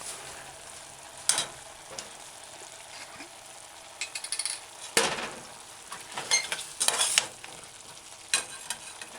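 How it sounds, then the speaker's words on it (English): Mushroom and chickpea stew with ketchup stirred in a pot, with irregular scraping strokes and clinks of the spoon breaking over a faint background simmer. "Stir the ketchup in the stew."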